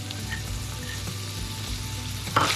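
Cream cheese stirred into a hot pan for cheesy Italian wraps, with a steady close sizzle and soft scraping of the spoon, ending in a brighter burst of spitting.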